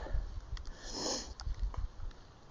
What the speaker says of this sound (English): us sniffing and breathing hard